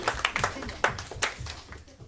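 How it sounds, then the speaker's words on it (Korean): A youth worship congregation claps in a church service, a short patter of scattered hand claps with some voices mixed in, fairly quiet. "예배를 받으신 하나님께 영광의 박수를 드립니다."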